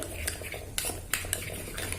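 A chicken and shrimp dim sum filling seasoned with white pepper being stirred in a bowl, with a few light utensil clinks and scrapes standing out over a low hum, no talking.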